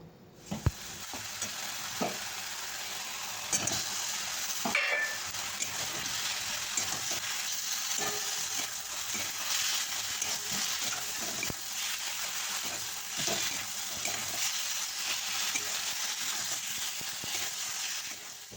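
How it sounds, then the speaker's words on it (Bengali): Potato and cauliflower pieces frying with cumin and other ground spices, a continuous close sizzle with scattered stirring scrapes and clinks, and no voices. "মশলার সাথে আলু ফুলকপিগুলো খুব ভালোভাবে কষানো হয়ে গেছে"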